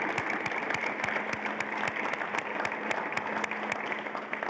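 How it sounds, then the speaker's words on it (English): Audience applausing after a Czech coaching talk on strength training for youth football players: steady, dense clapping from a moderate-sized room, even and continuous throughout. "I think we can give applause to Nicole."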